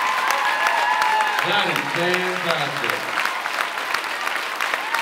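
Audience at a fan convention panel applauding an auction winner, a steady wash of clapping running throughout while a speaker's voice briefly rises over it.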